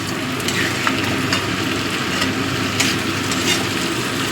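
Hot water poured into frying potato curry made with panch phoron and soft tomato, setting off a loud, continuous sizzle and bubbling that stays steady across the whole moment with no voices.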